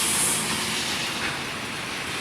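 A train rolls past nearby, a steady, loud rumble and hiss of wheels and carriages that fades slightly over its course, heard without speech.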